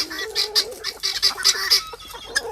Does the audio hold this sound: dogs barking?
no